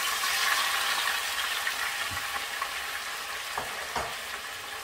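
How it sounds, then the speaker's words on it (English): Steady crackling sizzle of potatoes frying in hot oil, close and continuous, with a few soft clinks and pops. "we're ready to put our potatoes in the oil. It's good and hot. It's going to splatter."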